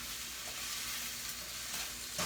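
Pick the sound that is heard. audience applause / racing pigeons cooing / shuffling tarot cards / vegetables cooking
vegetables cooking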